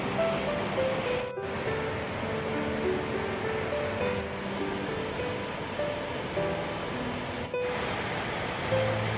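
Mountain stream water pouring steadily into a pool in Muju Gucheondong valley, a dense continuous rushing wash that stays loud and unbroken throughout, with no voices.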